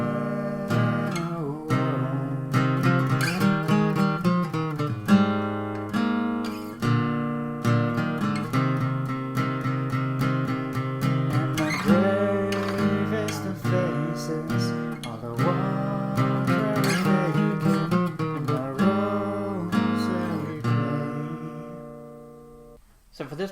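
Distorted rock guitar plays the second half of a song bridge, steady driving strummed chords with ringing harmonics, loud and continuous for over twenty seconds before cutting off.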